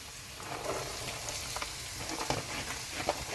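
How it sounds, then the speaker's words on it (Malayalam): Chopped onion sautéing with curry leaves in a pan for potato masala curry gives a steady, close broadband sizzle with a few soft stirring taps, no voices. "ഇത് നന്നായിട്ടൊന്ന് വഴന്ന് വരുന്നവരെ നമുക്കിതൊന്ന് വഴറ്റിയെടുക്കാം."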